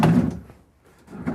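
The doors of an 18 cubic foot Samsung residential refrigerator in a 2025 Renegade Classic 45CMR motorhome shut with a muffled, close thump, followed by a second softer closing thud a moment later.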